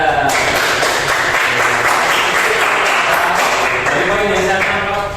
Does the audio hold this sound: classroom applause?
yes